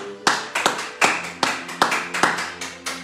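A church congregation claps in steady unison praise, with loud, evenly spaced claps about twice per second, ringing close and bright in the room.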